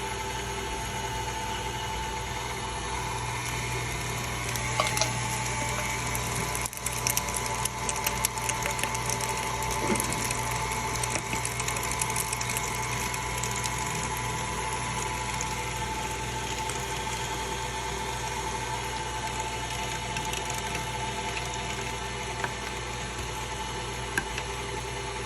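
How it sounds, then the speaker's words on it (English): An electric meat grinder grinding cold pork and venison for breakfast sausage, a steady loud mechanical whine and hum running unbroken with a few faint clicks. "it's definitely best to grind the meat when it's cold, really cold"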